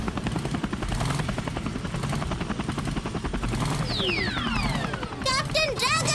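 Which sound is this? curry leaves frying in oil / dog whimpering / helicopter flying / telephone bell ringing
helicopter flying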